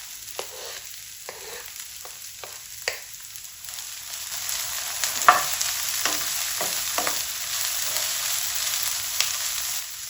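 Onions added to a pan and fried, as for an okra sabzi, sizzling steadily under a series of scraping spatula strokes, close and moderately loud, with no talking.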